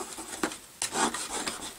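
A bone folder burnishes paper on a mini album, giving a short, soft rubbing swish in a couple of quick strokes, close up and quiet.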